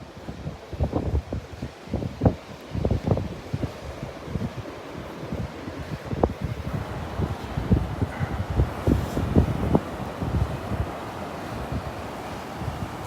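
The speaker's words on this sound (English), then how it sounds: "the wind is kind of coming out of the northeast, it's knocking the waves down a little bit" Northeast wind blows across Vanderbilt Beach on a morning walk, buffeting the microphone in rough, uneven gusts over the soft wash of surf for about thirteen seconds, with no voices.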